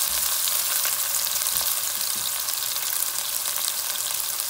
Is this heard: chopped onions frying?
yes